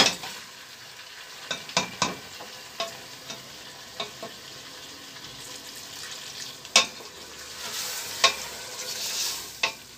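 Onions sizzle in a frying pan at home, a soft steady hiss broken by sharp scrapes and clinks of a utensil stirring against the pan, with no voices.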